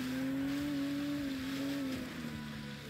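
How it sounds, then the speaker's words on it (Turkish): A Tofaş car engine drones steadily while driving over rough off-road terrain, a loud continuous hum with a slightly wavering pitch and faint bumps underneath. "Bakalım bu arazi şartlarında Tofaş nasıl gidecek,"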